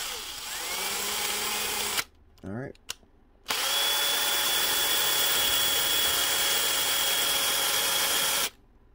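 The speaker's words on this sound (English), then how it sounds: "I use like a stepped bit or like a big like half inch drill bit in reverse" A power drill with a half-inch bit running in reverse to clean up a tube end whirs steadily for about two seconds, stops briefly with a short spin, then runs again in a long continuous whine before cutting off.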